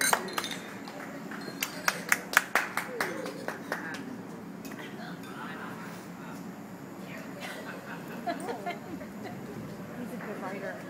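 Glasses clink in a wedding toast, a quick cluster of bright chimes near the start, among chatter and voices in a lively gathering.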